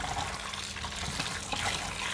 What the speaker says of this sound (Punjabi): ਦੇਖੋ ਇਸ ਤਰ੍ਹਾਂ ਕੱਢ ਦੇਣਾ ਮੈਂ ਪਾਣੀ